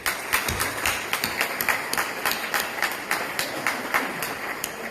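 Applause from an audience at an Indian Embassy Republic Day evening program in Kuwait, a modest spread of hand claps with uneven, pulsing rhythm that keeps going steadily throughout, no speech over it.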